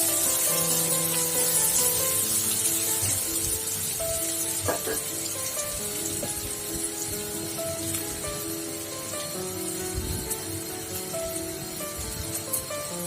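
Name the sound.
onions frying lightly in a pan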